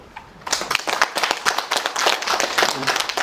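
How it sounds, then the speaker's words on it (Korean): Audience clapping at a Korean community forum, a scattered burst of hand claps starting after a brief pause and continuing steadily, fairly close and moderately loud. "그러면서 박수 한번 주시죠."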